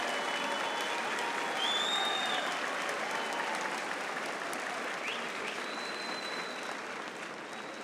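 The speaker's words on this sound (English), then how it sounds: "give you a round of applause" Crowd applause at a high school graduation ceremony, a broad, continuous roar of clapping from a large audience, steady and fairly distant, slowly tapering near the end.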